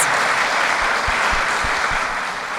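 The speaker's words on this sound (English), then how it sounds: "Please give Galina another round of applause." Audience applause for speaker Galina Tachieva after a talk on growth strategies, a steady dense wash of clapping filling the room, with a few low thumps underneath.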